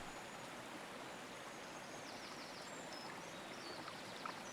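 Creek water runs gently over smooth stones in a steady, soft, continuous wash, faint and unbroken, with a few light bird chirps far off.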